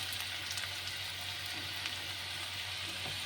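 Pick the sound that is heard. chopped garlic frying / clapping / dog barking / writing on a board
chopped garlic frying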